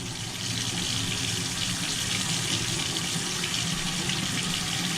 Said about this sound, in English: we've got water flowing out of this valve